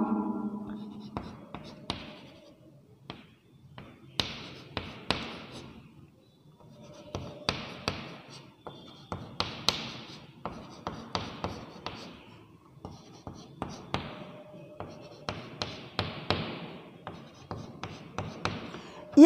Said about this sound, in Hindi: ये सारे ऐसे में लिखता जा रहा हूँ।